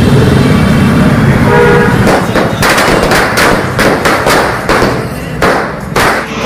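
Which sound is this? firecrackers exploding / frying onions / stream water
firecrackers exploding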